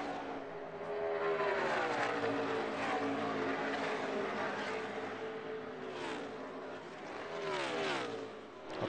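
NASCAR stock cars on the final lap of All-Star Open round 2 roar past in a sustained loud engine drone, pitch rising and falling as they power through the turns; no speech.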